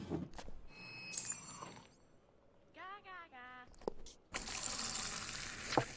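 A pint of beer poured in a Fable II tavern: a brief high chime and a short chirping game sound come before a steady, close gush of liquid filling the glass for the final couple of seconds.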